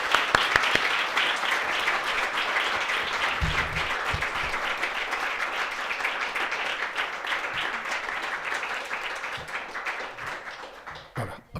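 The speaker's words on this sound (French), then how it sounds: "Applaudissements nourris et mérités." An audience at a presentation applauds Virginie warmly, sustained thick clapping from many people with a few sharper claps near the start, tapering off toward the end.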